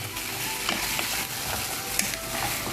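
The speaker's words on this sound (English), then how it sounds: "properly mix the crabs until all the masalas, onion flavor, everything gets to the crab" Crabs with masala and chopped onion fry in a hot pan, giving a dense, continuous close sizzle, with faint scraping and clicking as they are stirred through.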